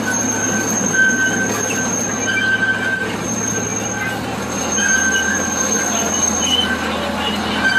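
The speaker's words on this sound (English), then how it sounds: "That is the Lake Schaefer Express train ride here at Indiana Beach." A small amusement-park train ride, the Lake Schaefer Express at Indiana Beach, rumbles along its track nearby, its wheels squealing in thin high tones over a steady low mechanical drone.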